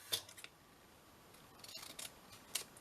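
Scissors cutting paper for a handmade flip-out craft booklet: a few quick, faint snips and crisp paper rustles, spaced irregularly over quiet room tone.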